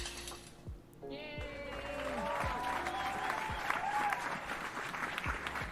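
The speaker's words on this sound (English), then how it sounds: "Give a round of applause for Elara." A late-night interview show audience breaks into continuous applause, mixed with playful meow-like and whooping cries, building steadily and holding at a lively level.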